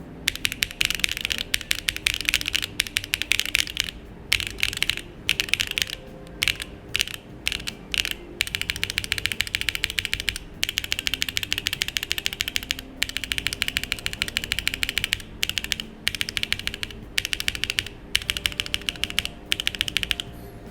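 Continuous rapid typing on an Akko Cream Yellow V3 Pro keyboard with lubed switches, a dense clacky patter of keystrokes in bursts broken by short pauses, close and steady throughout.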